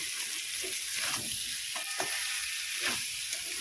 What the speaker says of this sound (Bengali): এইভাবে করে মশলার সাথে আলুটাকে ভালো করে কষিয়ে নেব।